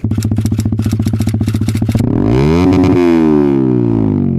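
A Yamaha XSR 155 motorcycle with a Yoshimura R77 exhaust pipe idles with a close, loud, rapid pulsing putter, then revs up into a rising, sustained roar.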